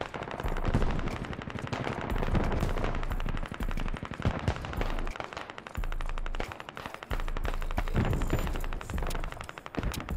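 Sustained automatic gunfire in a large-scale online shooter battle against about 100 players, with near, rapid bursts and scattered shots that continue across the whole stretch and leave only brief pauses.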